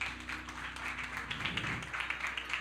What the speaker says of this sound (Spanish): Denle un aplauso a nuestros